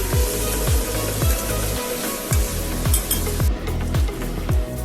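Onion, tomato, coriander leaves and turmeric frying in a pan as a tempering for shavige upma, a steady close sizzle broken by a regular series of sharp scraping stir strokes.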